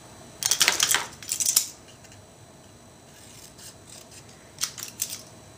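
Scissors snip through a small piece of cardstock in two quick bursts of crisp, close cuts, then a pause and a final short run of snips.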